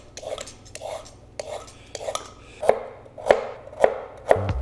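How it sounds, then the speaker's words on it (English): Carrots are sliced with a knife on a cutting board, about ten sharp chopping knocks, sparse at first and then quicker and louder near the end, close up and with no talking. "Slice up some carrots."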